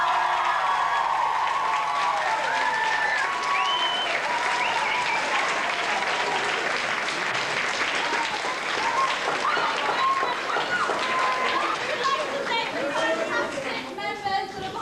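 Sustained audience applause after a school stage production of the musical Guys and Dolls, dense and continuous clapping filling the hall with crowd chatter and voices mixed in throughout.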